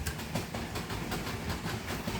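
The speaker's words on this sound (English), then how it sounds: "Train runs through here smoothly, doesn't hit anything." A model train runs steadily along layout track past a station platform, with a continuous rolling rumble and faint rhythmic clicking over rail joints, close and fairly loud.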